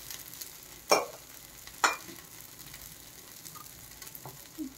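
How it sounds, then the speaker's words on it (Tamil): Cashews frying in groundnut oil in a pan, a quiet steady sizzle with two distinct clanks of a spoon or ladle against the metal and faint stirring. "ஏன்னா முழுக்க முழுக்க கொஞ்சம் எண்ணெயிலேயே நல்லா ஃப்ரை ஆகணும்"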